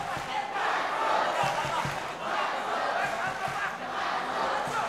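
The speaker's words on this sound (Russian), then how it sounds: "какие персональные болельщики, да, у Мансура Джамбураева скандирует Мансур, Мансур" Fans at an MMA bout chant a fighter's name in a rhythmic, repeated crowd cry, with a commentator talking over the noise.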